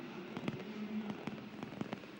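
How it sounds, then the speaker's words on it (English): Fireworks going off after a Peru football win over Uruguay, a string of sharp cracking bursts popping irregularly over a steady crowd rumble, fairly distant. "the fireworks though, celebrating a Peru win"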